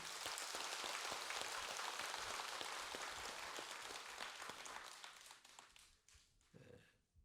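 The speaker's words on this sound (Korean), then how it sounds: "우리 큰 박수를 부탁합니다" A large audience at a dharma talk in Jogyesa temple claps steadily for about six seconds, a dense crackling wash that thins and fades out near the end.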